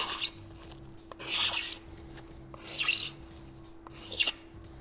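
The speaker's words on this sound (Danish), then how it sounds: "så har jeg en sikling, som jeg lige skraver kanten med" Card scraper drawn along the edge of an acrylic tube in four separate raspy strokes at uneven intervals, close and fairly quiet over a faint steady hum.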